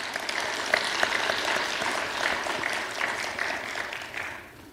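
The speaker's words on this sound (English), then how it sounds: "give Laura a big round of applause" An audience at a college arts, humanities and social sciences awards symposium applauds a student award winner, a steady moderate wash of many hands clapping that holds evenly, then thins and fades toward the end.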